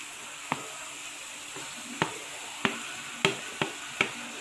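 Tomatoes and green chilies cooking in a pan with ginger and garlic for a dry capsicum paneer masala, a faint soft sizzle punctuated by about seven sharp, evenly spaced spoon taps or clicks, with no talking.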